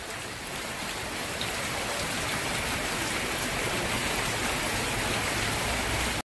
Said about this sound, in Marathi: आठवडे बाजारमध्ये पावसाने मोठा धुमाकूळ घातला आहे।